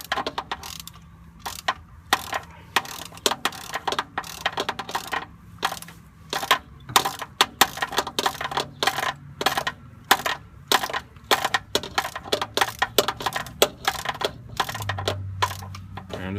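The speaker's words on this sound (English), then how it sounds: "I'm just gonna go ahead and tighten this one down all the way" Ratchet tightening a bolt on the drive shaft of a 1999 Mercedes-Benz ML320 during a center support carrier bearing repair: steady rapid clicking of a ratchet pawl in uneven bursts, close and fairly loud, with no talking.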